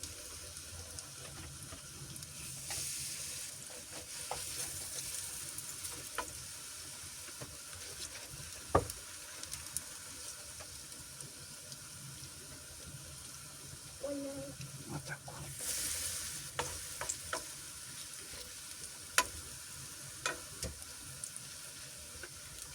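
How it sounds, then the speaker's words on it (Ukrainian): Food frying over moderate heat in a pan and turned to cook on both sides, a faint, quiet sizzle with scattered light clicks and knocks of utensils and a brief trickle of running water. "і жаримо з обох сторін"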